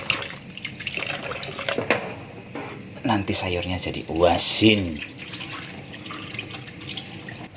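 Tap water runs into a sink while salted bitter melon is rinsed, a steady splashing wash that rises and falls as the vegetable is handled, with a person talking over it.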